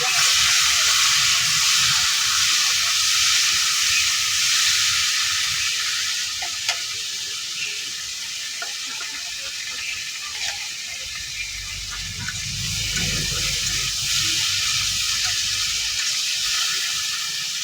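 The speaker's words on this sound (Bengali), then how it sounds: "আর দেখি কচু আর আলু দুজন ভাজিয়ে নিব আগে" Taro and potatoes frying in hot oil, a loud continuous hissing sizzle that stays up close throughout, with a few faint clicks and a slight swell of bubbling toward the end.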